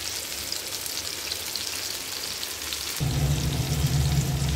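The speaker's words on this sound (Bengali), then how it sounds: "মাছটা ভাজা হতে থাক" Hilsa fish fry in a pan with a steady, rain-like hiss of hot oil that grows louder and fuller partway through, close and continuous with no voices.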